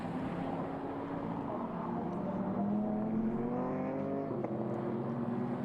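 Racing cars at the Fuji Japan Cup 2024 race, including a Nissan, a steady engine drone with rising harmonic whine as cars pass, continuous and moderately loud, with faint commentary underneath.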